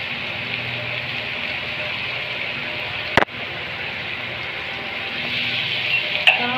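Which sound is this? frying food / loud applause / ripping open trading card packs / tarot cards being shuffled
frying food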